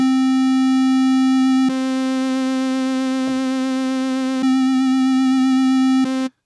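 A steady, buzzy pulse wave tone from a Roland Aira synthesizer holds one pitch, its timbre shifting hollow and brighter in a few abrupt steps, loud and continuous with no voices.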